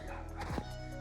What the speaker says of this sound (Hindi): कुत्तों के भौंकने की आवाज़ जो है आनी शुरू हो गई